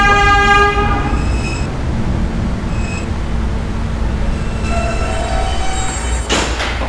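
A New York subway B train at a 104th Street terminal with a mechanical malfunction rumbles steadily, with tonal horn-like and squealing wheel tones sounding intermittently over the low, continuous drone.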